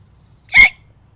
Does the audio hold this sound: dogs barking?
no